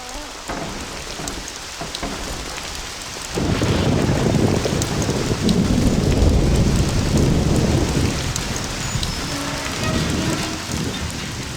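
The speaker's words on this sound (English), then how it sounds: "You can feel the night rain, creaking sound, and this eerie general sensation throughout the entire beginning" Heavy night rain in the video game Mafia during the trip to the country mission, a dense continuous downpour that swells louder after a few seconds and holds steady with a distant rumble, no voices.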